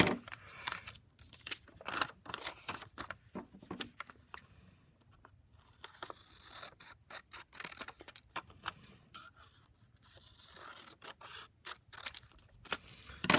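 Scissors snipping through quilt fabric pieces in short, quiet bites, with irregular clusters of sharp cuts and pauses, close and faint, no talking.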